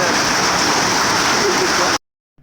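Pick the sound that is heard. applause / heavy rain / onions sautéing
heavy rain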